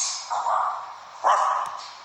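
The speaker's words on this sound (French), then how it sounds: "Comment il fait le chien? Le chien. Aboie." Dog barking indoors at home, a few short yelps spaced over two seconds, moderately close and fairly loud against a steady background hum.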